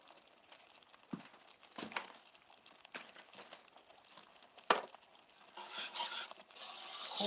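A whisk stirs in a pot on a wood stove, giving soft intermittent scraping and light metallic clinks at close range, with some louder stirring toward the end and no talking.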